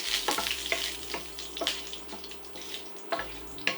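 Whole garam masala spices sizzle in two tablespoons of hot vegetable oil in a pan, a close, steady crackling hiss with sharper pops scattered throughout.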